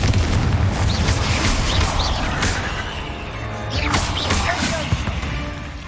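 Repeated Confringo blasting spell explosions in Hogwarts Legacy, heavy booms and crashing bursts over a continuous rumbling din, with scattered sharp pops and debris-like crackles throughout.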